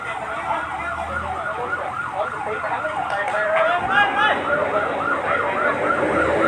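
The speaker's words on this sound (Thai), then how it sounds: "รถดับเพลิงมาอีกคันแล้วครับ" A wailing fire engine siren rises and falls continuously, fairly loud and close, at a factory explosion scene in Chom Thong, Thailand, with traffic noise underneath and a second siren tone joining partway through.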